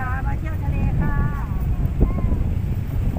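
Strong wind off the sea near a red bridge roars steadily across the microphone as a low, buffeting rush, while a voice talks over it.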